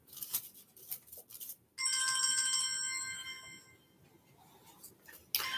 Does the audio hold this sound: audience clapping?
no